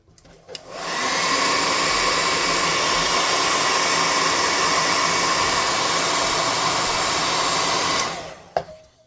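A hot air gun blows steadily on a painted miniature figure, a loud continuous whooshing roar that starts abruptly, holds for about seven seconds, then cuts off with a small clack.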